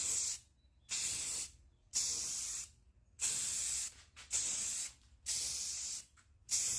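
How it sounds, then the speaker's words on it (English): Rust-Oleum Ultra Matte spray paint in a sand dollar color hisses from an aerosol can onto a wooden pallet in seven close, loud bursts of roughly half a second to a second each, with short silent gaps between them. "we're gonna give this a nice coat of this beautiful Rust-Oleum Ultra Matte spray paint"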